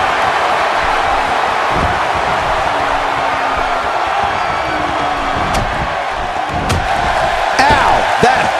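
A large WWE Raw arena crowd roars steadily throughout a Roman Reigns versus Rusev wrestling match in 2016, loud and continuous, with a few whistles and sharp shouts rising near the end.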